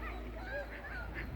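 Geese, including baby geese, honk and call in a park, several short nasal cries rising over a low steady background rumble, moderately near.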